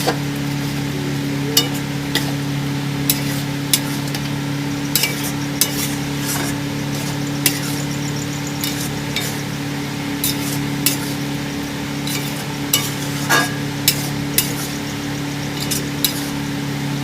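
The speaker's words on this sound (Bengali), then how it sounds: "গরম মশলা দিয়ে নাড়িয়ে নেব।" Rajma masala being stirred with garam masala in a pan, steady spoon scraping and clinking against the metal over a continuous low sizzle, close and fairly loud with no talk.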